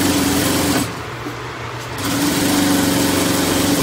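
Industrial sewing machine stitching slowly, its steady motor whir and rapid needle rhythm loud and close, pausing briefly in the middle before resuming.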